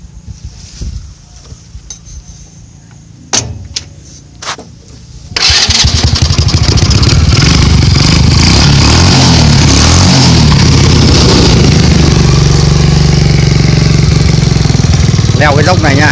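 A three-wheeled motor vehicle with a heavy-duty axle and auxiliary gearbox has its engine started after a few clunks and brief talk, then it bursts into a loud, steady, close-up running drone that continues to the end.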